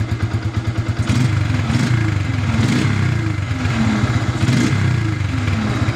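A Yamaha Byson motorcycle engine running close by, with a rumbling exhaust note that is loud and steady. It surges through several rev blips and falls back between them, with clattering mechanical ticks underneath.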